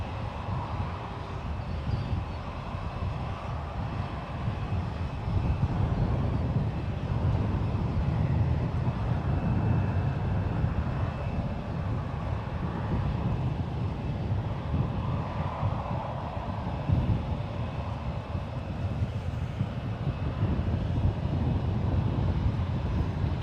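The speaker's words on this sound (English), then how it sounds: "heavy Dreamliner just departed" A heavy Boeing Dreamliner jet departs San Francisco International Airport, its engines giving a steady, broad rumble that holds loud and even for over twenty seconds, with faint wind noise and no voices.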